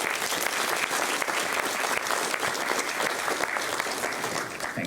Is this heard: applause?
yes